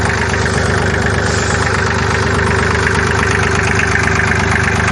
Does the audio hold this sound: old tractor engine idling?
yes